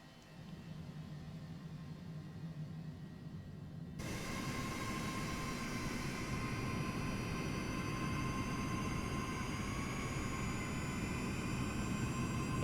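A Cessna Citation Longitude business jet in Microsoft Flight Simulator 2024 spins up its engine, a steady broadband roar joined by a rising whine that grows fuller and louder after a few seconds, with no talking.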